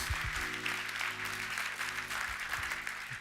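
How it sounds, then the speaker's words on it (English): Audience clapping and applause during a talk on combating human trafficking, a steady wash of many hands sustained for the full stretch, fairly loud and dense, with a low hum beneath. "you can give claps for that"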